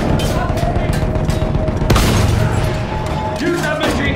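Machine gun fire in the World War I shooter Battlefield 1, a dense, steady battle din with continuous rattling bursts, a heavy boom near the two-second mark, and shouted voices over the fighting.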